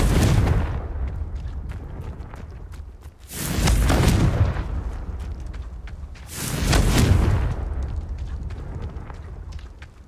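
Two heavy booming blasts of the Confringo fire spell in Hogwarts Legacy, each a sudden loud burst trailing into a rumbling decay, spaced a few seconds apart over a low continuous game ambience.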